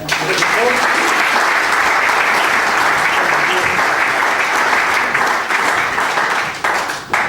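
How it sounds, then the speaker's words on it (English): A crowd gives loud, dense, sustained applause at a charity cycling launch night, a continuous wash of clapping that carries on for several seconds before tapering slightly at the end. "So a massive round of applause, Paul Gowland."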